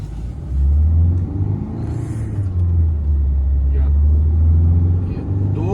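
Kia Sonet HTX iMT 1.5 diesel accelerating from 0 to 100 on a highway, with a loud, steady low engine drone and rumble heard from inside the cabin that rises as it pulls.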